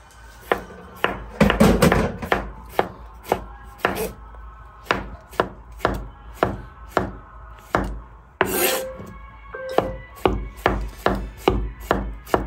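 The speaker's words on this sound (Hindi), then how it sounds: "उस तो बाद अपना टमाटर कट लवेंगे" A knife chops tomatoes on a board in a steady series of sharp, close thuds, with a quick burst of rapid cuts early on and a brief scrape partway through.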